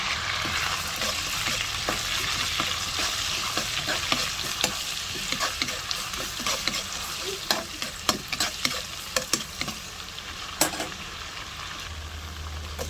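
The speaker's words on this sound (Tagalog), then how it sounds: "And from the same pan, mag-igisa tayo muna ng bawang." Garlic sautéing in a pan while being stirred, an unbroken close sizzle with frequent spatula scrapes and taps over it, and no voices.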